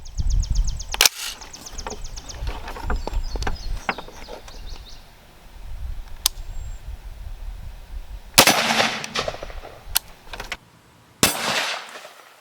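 Sharp rifle shots from a Spikes Tactical AR with a 16-inch barrel, firing M193 rounds at an armor plate outdoors, crack out one at a time at irregular intervals, loud and near, with softer background noise between them.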